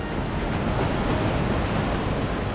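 Strong ocean waves surge against a rock shelf on the Dee Why to Curl Curl coastal traverse, a loud continuous roar of churning water up close.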